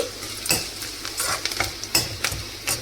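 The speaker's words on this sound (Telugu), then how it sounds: "ఇప్పుడు ఒకసారి మంచిగా కలిపేసుకోవాలి ఇదిగోండి ఇలా మంచిగా ఫ్రై అవ్వాలండి" Onions and curry leaves are stirred as they fry in a pan for Telugu ivy gourd fry. A close sizzle is broken by repeated clinks and scrapes of a metal spoon, with no one speaking.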